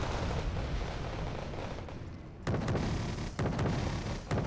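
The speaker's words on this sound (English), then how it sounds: "Some machine gun fire back and forth." Machine gun fire in the real-time strategy game Wargame: Red Dragon, a continuous crackle of shots and distant rumble, with several sharp bursts punching through in the second half.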